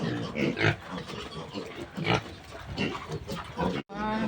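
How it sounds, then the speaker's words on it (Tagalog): Native pigs feed on fresh grass in a farm pen, giving snuffling grunts and oinks up close that rise and fall in several bursts, with a brief break near the end. "Ayan na, kinakain ni Bornok yung damong binigay ni Pagpilyan"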